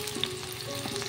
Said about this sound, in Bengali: ভালো করে পেঁয়াজটা আমি ভেজে নিচ্ছি